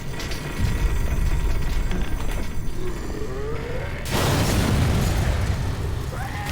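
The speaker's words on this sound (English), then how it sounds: "High energy detonation detected in materials lab." High-energy detonation in Black Mesa's materials lab, a loud broad explosion rumble that swells suddenly partway through over constant low industrial background noise, with no talk.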